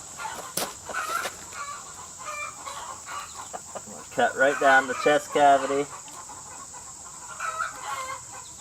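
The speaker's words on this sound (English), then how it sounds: "My chickens are going crazy in there." Chickens cluck and squawk loudly in a nearby coop on a rabbit-keeping homestead, agitated calls surging in bursts, with someone talking over them.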